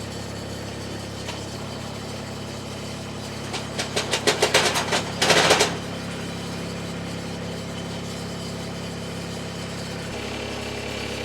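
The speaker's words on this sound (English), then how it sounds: "now I can raise the conveyor up and it's going to fold up" An Eastonmade 37D log splitter's engine idles steadily while its conveyor folds up, with a burst of rapid mechanical clatter and hydraulic rattling partway through, then the engine hum continues alone.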